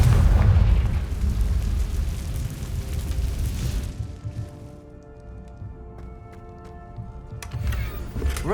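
Confringo fire spell exploding in a video game, a loud booming burst at the start that rumbles and fades into lower ambient noise, with a second sharp crack near the end.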